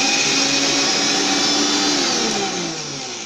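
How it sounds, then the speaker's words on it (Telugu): A kitchen mixer grinder runs at full speed, grinding raw banana with ginger and green chilies. Its steady, loud motor whine holds throughout and eases slightly near the end. "మిక్సీ పట్టుకున్నాను."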